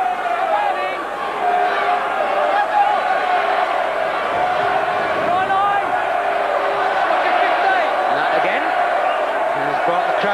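A rugby stadium crowd roars in support of Wales, a dense, sustained wall of cheering and voices with a commentator talking over it.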